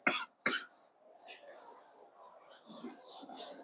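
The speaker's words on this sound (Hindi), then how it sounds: "मैं इतना खांस रहा हूं" A man coughs twice, sharp and close, during a Sanskrit poetics lesson, followed by soft, breathy throat sounds and quiet murmuring.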